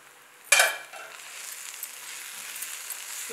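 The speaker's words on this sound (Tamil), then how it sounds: "மொத்த கீரையும் போட்டுட்டு ஸ்டவ் சிம்ல வச்சிட்டு நிதானமாக கலந்து விடணும்" Chopped gongura leaves hit a hot pan with a sharp sizzling burst, then settle into a soft, steady frying hiss as they are stirred on low heat.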